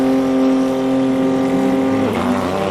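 A Nissan R35 GTR race car at a hillclimb holds a loud, steady engine drone near the start line, then the pitch shifts abruptly as it launches with a surge of noise.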